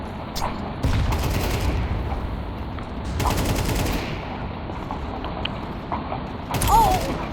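Bursts of gunfire in Counter-Strike 2 on a community server, with several loud broadband volleys separated by quieter stretches of game ambience, and a short tonal chirp near the end.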